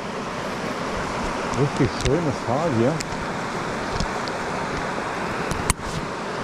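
The Ilse river rushes through its valley in the Harz mountains, full of water, giving a steady close hiss of flowing water while someone speaks briefly over it and a sharp knock sounds near the end.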